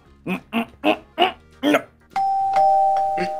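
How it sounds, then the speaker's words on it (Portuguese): Doorbell in Minecraft ringing a clear sustained chime after a quick series of five short honking game sounds, close and alone with no talking. "Ah, verdade, campainha."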